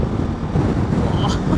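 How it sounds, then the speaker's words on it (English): Strong wind at a mountain pass in the French Alps buffeting the microphone with a loud, low, continuous rumble, with someone's voice partly mixed in. "it's really windy here"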